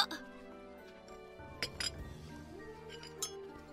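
Plates clink as cake is handed out at a family gathering, a few bright scattered clinks under people talking in Filipino.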